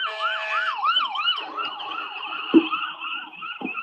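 An ambulance siren wails in a rising and falling yelp that repeats steadily, fairly loud and close at a roadside, with a couple of short thumps near the end.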